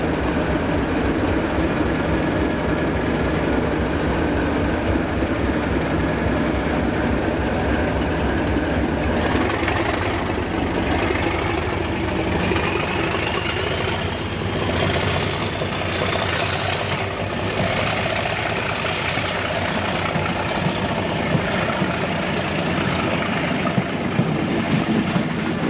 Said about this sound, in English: Colas's 37116 leading a UTU test train on 3Q34 the 2043 Fortwilliam to Shields Junction